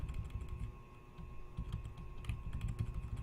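Computer keyboard typing, a steady stream of quick clicky keystrokes at close range with soft irregular rhythm and no voices.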